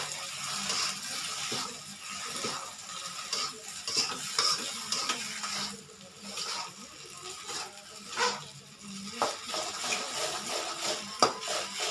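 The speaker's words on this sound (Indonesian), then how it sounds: "Aduk rata." Kwetiau flat rice noodles stirred and tossed in a hot pan, a steady sizzling hiss broken by scraping strokes of the utensil, close and fairly loud with no voices.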